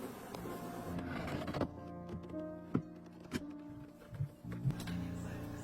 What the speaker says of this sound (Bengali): মধুর চাকগুলো এনে এইভাবে পরিষ্কার করে একটি মেশিনে ছেড়ে দেওয়া হয়।